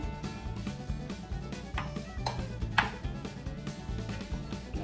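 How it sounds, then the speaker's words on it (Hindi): Corn cheese ball ingredients are stirred and mashed together in a bowl for an American-style recipe, giving soft, irregular scraping and clinking with a few sharper knocks, close by and without talk. "अब हम ये सबको मिक्स कर देंगे अच्छे से"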